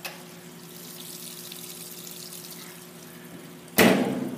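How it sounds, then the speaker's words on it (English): Water running into a Kenmore washing machine as it fills, a steady soft hiss with a low hum underneath, then a sudden louder gush of inflow near the end. "Water is running."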